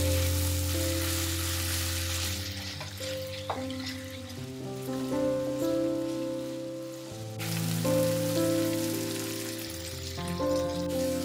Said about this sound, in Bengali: মশলার সাথেও চিকেনটাকে আমাদের কিছুক্ষণের জন্য নাড়িয়ে চাড়িয়ে কষিয়ে নিতে হবে